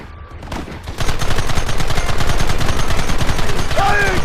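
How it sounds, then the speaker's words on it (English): Sustained rapid gunfire in Red Dead Redemption erupts after a brief quieter lead-in, loud and continuous volleys of overlapping shots with a voice shouting near the end. "There they are! Open fire!"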